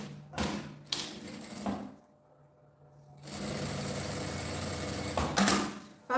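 A sewing machine stitches fabric for a small phone pouch. It starts with several short runs, pauses briefly, then runs in one steady stretch of about two seconds at close range.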